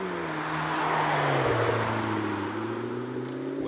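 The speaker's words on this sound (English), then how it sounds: "This is the acceleration and the great sound." McLaren 12C Spider sports car engine accelerating from inside, a steady droning roar with engine tones that rise then ease off as gears change; no talking.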